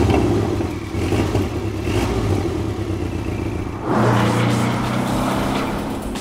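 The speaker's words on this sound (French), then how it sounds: "Pour garder un peu de noblesse, il adopte l'architecture Boxer qui lui donne au ralenti un bruit caractéristique." A 2016 Porsche 718 Boxster with a turbocharged 2-litre flat-four boxer engine idles close by with a loud, throbbing, slightly clattery rumble, then rises in a brief rev near the four-second mark before settling back to a steady, burbling idle.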